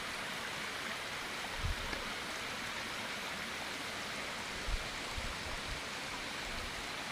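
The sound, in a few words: water flowing in a stream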